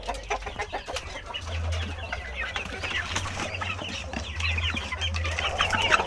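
Soft peeping and clucking of free-range village chicks being fed carries on steadily over a low background hum, with scattered light taps and scratches.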